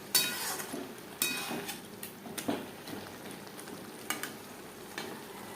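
Capsicum and mixed vegetables sizzle in a pan while being stir-fried for homemade chicken egg chow mein, with a steady frying hiss punctuated by periodic scrapes and clanks of the spatula, close and clear.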